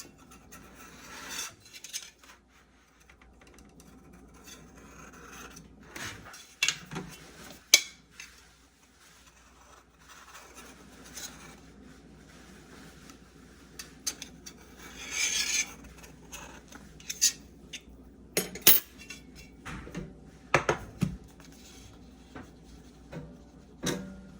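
Scattered metallic clatters and scrapes of worn cake pans being handled, with bursts of rattling and tapping against a quiet room background.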